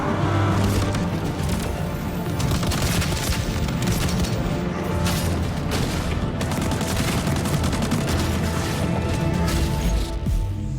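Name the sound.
gunshots in a video game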